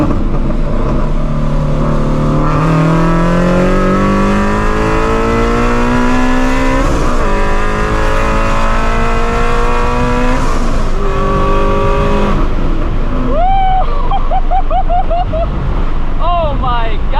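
A supercharged Shelby GT350 accelerates at wide open throttle, its loud engine roar rising in pitch through gear changes amid wind buffeting, then easing off as a voice speaks near the end.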